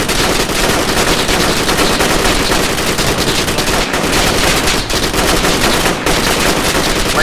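Loud, nonstop automatic gunfire crackles through a militia infantry squad ambush in the video game Project Reality, with rapid overlapping bursts and a few brief gaps in the dense barrage.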